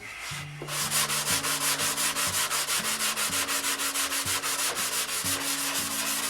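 Hand sanding with 320 grit sandpaper: close, steady back-and-forth rasping strokes in an even rhythm, loud and continuous with no talking.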